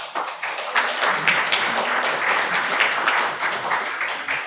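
Audience applause fills a National Assembly policy meeting on global strategy for K-content, a dense, steady clapping that runs loud and unbroken throughout with no talk over it.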